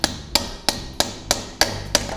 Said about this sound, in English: You get the hammer, you get the plastic side so you don't damage anything.